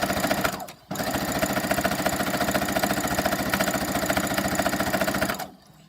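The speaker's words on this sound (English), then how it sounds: "sew all the way down" A sewing machine runs a fast, steady stitching burst down a fat-quarter scrunchie seam, close and loud, with a brief stop near the start and the motor winding down at the end.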